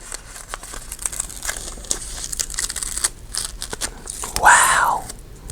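A decorative sticker peeled from its backing and pressed into a planner, close crinkling and crackling plastic rustles building to a brighter tearing peel near the end, with a voice talking over it.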